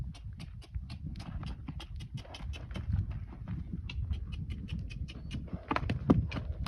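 A horse walks forward on a hard surface, its hooves clip-clopping in a steady, even rhythm, close and clear over low background rumble.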